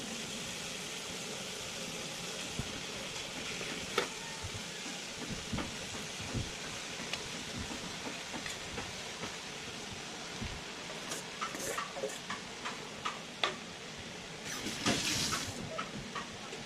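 Cold cooked rice fries in a pan for fried rice, giving a steady soft hiss and sizzle with scattered small crackles and pops throughout, fairly quiet and continuous.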